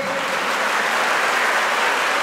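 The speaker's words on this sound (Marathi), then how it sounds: "टाळ्या होऊ द्या, आपल्या कष्टासाठी टाळ्या होऊ द्या" Steady, dense applause from a ceremony audience at a birthday felicitation event, continuous and loud throughout with no voices over it.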